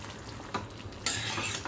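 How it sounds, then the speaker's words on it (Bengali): A pan of bottle gourd greens and mixed vegetables sizzles steadily while being stirred, with a couple of soft scraping strokes of the utensil against the pan rising briefly above the frying hiss. "লাউ শাক আছে, তো এইগুলো দেখো ভালো করে একটু নেড়ে দিচ্ছি।"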